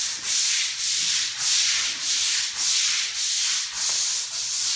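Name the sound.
scrubbing a concrete garage floor with a bristle brush and acid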